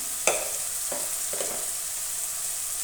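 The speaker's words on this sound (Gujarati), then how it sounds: "હવે આપણે તેમાં સૂકા મસાલા એડ કરીશું સૌપ્રથમ તો આપણે હળદર નાખીશું" Turmeric and other dry spices go into a hot pan, with a steady close sizzle and a few brief clinks or scrapes from stirring. Nobody speaks.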